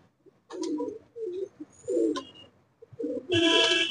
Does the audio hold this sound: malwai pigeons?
yes